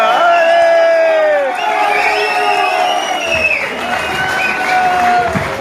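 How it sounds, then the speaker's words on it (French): A crowd at a wedding celebration applauds and cheers loudly, with whoops and shouts rising over dense continuous clapping that carries on steadily throughout. "Merci de les accueillir avec des applaudissements dignes de ce moment historique."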